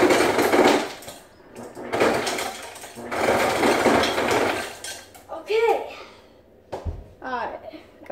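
Ice is scooped into a bowl in bursts of clattering, scraping rattles, loud and close, followed by a few brief tonal clinks and knocks.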